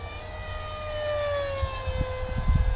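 A Parkzone Habu 70mm electric ducted-fan model jet climbs vertically, its high whining fan tone sliding steadily downward in pitch as it pulls away, with some low wind buffeting toward the end.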